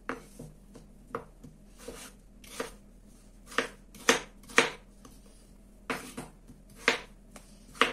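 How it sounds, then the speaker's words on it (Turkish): Knife chopping potatoes into small cubes on a cutting board in a home kitchen, a series of sharp, close, irregular cuts in bursts with short pauses, no talking. "Küp küp doğramaya çalışacağım"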